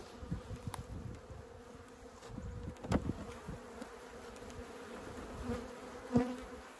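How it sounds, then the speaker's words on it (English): Aggressive honey bees swarm around their hive, a dense continuous buzzing hum close to the microphone, with occasional louder passes as individual bees fly near. "the bees are just kind of flying everywhere"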